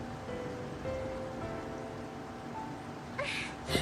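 Steady rainfall in a Final Fantasy XIII cutscene, a dense even wash of rain noise throughout, with a couple of brief louder bursts near the end.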